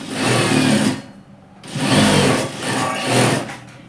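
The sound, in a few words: sewing machine stitching a capri pocket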